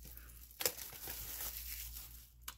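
Plastic shrink wrap crinkles and tears as it is pulled off a Best Buy exclusive Psycho 60th anniversary 4K Blu-ray SteelBook, with a sharp rip near the start and another brief crackle at the end, close and fairly quiet.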